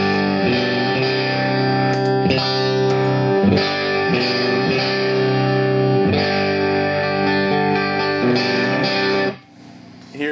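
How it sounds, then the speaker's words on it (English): An electric guitar played through the boost side of a GT500 pedal, giving loud, sustained driven chords with repeated strums before fading at the end. "Here is the GT500 boost side."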